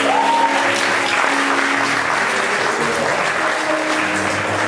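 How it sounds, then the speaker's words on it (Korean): A congregation at a Sunday church service claps in steady, dense applause that fills the room, with faint sustained musical tones beneath it. "자, 나오실 때 박수 한번 더 하십시다."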